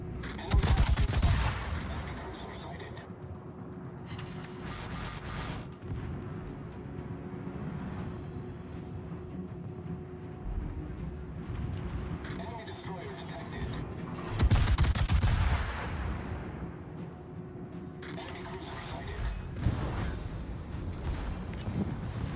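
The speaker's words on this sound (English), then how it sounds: "Now we'll do a broadside here, unless he turns towards us." Warship broadside gunfire in World of Warships, with two heavy booming salvos some seconds apart, each rolling into a long rumble over continuous engine and sea noise.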